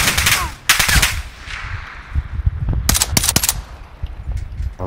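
Automatic gunfire in the Warzone shooter game, several sharp bursts of rapid shots, some close and loud, with low rumbling game noise between them and no clear talk.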